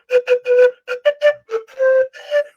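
An Andean wind instrument is played in a short run of quick, separate breathy notes, each a clear whistle-like tone with a brief gap before the next. It is close and fairly loud, with no talk over it.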